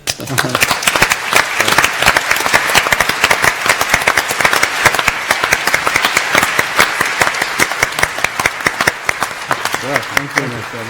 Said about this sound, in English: Then I propose a joint round of applause then to the Nobel laureates assembled and also to the young researchers in the audience, please.